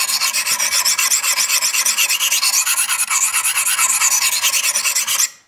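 Steady back-and-forth rasping of a knife blade drawn freehand across a sharpening stone, a close, continuous rhythmic scrape of quick even strokes that stops abruptly at the end.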